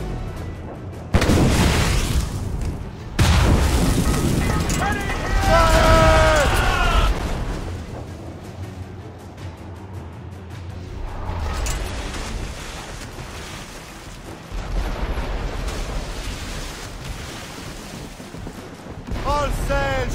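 Ship cannons firing during a naval battle in Assassin's Creed Rogue, several loud booming blasts over rushing waves and wind, with shouting voices between the shots.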